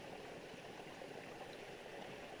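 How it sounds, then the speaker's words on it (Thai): Water pours down a hillside waterfall in a continuous, even rush of broadband noise. The sound is steady and moderately distant, with no voices over it. "เห็นบ่น้ำตกได้ยินบ่เสียงน้ำ"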